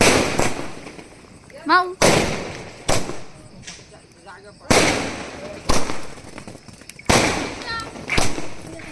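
Diwali firecrackers bursting outdoors, a series of sharp loud bangs spaced a second or two apart, each with a short ringing tail, with voices calling and talking between blasts.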